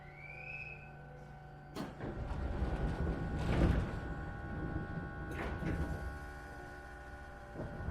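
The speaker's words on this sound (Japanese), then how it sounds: "ドアが閉まります。" Doors of an Iyotetsu 3000 series train close on the Gunchu Line, two faint thuds over a quiet carriage hum, with a short chime near the start.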